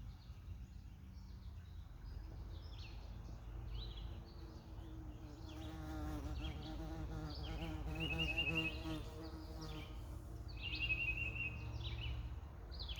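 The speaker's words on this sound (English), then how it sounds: "That was a beautiful bee that came by" A bee flies past with a buzzing drone that swells and wavers for several seconds, set against a quiet outdoor background where faint bird chirps come and go.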